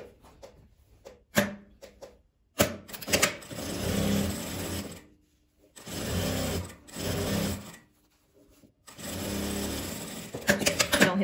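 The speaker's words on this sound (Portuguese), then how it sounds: "Nós vamos levar lá na máquina e passar uma costura nessa parte aqui e nela dobrada aqui em cima" A sewing machine stitches folded fabric in several short bursts of rapid whirring, separated by quiet pauses, close and clear.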